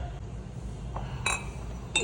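Two short, light clinks of glass sound over a low steady hum, the second near the end.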